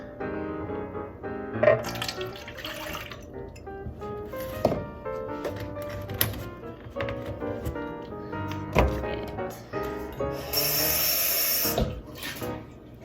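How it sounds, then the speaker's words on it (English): A bowl is rinsed under a running kitchen tap, water splashing and clattering against it with a few knocks of dishware, steady and close with no talk. "I'm gonna rinse that and dry this out"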